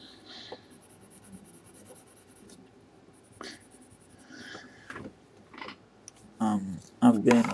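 Colored pencils scratch across paper in soft, irregular strokes, faint and close at first, then growing louder and denser near the end.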